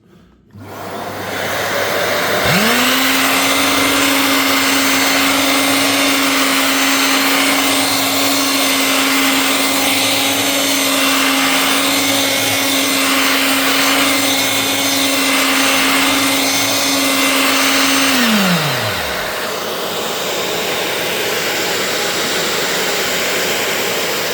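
A carpet shearing machine motor spins up and runs with a loud, steady whine and broad rushing noise for about fifteen seconds, then winds down, leaving a softer hum.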